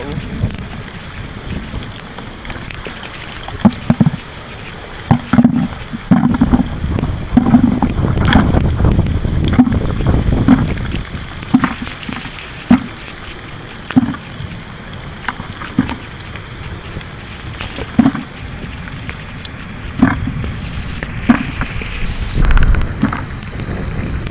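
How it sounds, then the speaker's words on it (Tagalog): Strong gusty typhoon wind roars and buffets the microphone continuously in San Pablo City, Laguna, with repeated thumping bursts and rattling throughout. "sobrang lakas ng hangin"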